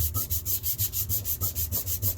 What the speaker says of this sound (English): Sand that right there off.